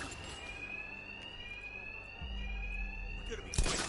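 A continuous electronic alarm rings steadily through a Batman: Arkham Knight game scene, a high sustained tone with a deeper hum joining partway and a sharp thud near the end.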